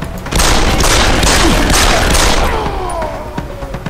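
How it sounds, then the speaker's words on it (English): Rapid gunfire in a video game erupts loud and close as a dense fusillade of shots that blur into one continuous burst, then trails off into softer scattered sounds. "what the fuck is that guy shooting with? So many fucking bullets."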